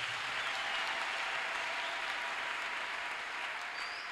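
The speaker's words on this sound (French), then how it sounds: "Acclamons encore le Seigneur" A church congregation applauds in praise, a steady wash of many hands clapping heard from a distance at moderate volume, unbroken for the full stretch.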